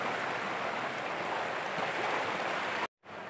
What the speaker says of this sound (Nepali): खोला बगी बगी नै पानी हो